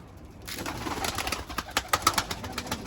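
Tumbler pigeons on a balcony give soft, low cooing calls that swell from faint to clearer, with a rhythmic fluttering of wings pulsing near the end.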